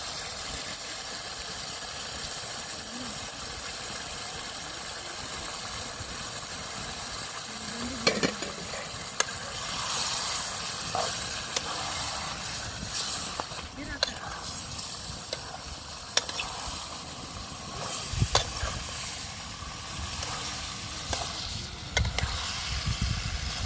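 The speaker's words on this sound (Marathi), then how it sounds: "पिंकी बघा आवाजसुद्धा कसा यायला लागला एकदम शिजतीन" Steady sizzling and hissing of fish frying in a pan goes on throughout, with occasional clinks and scrapes of stirring.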